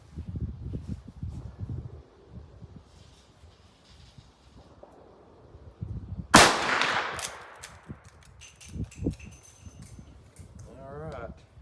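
A single sharp report from a Rossi R92 lever-action rifle chambered in .357 Magnum with a 20-inch barrel, fired at an outdoor range, loud and close with a decaying tail, amid wind noise and people talking.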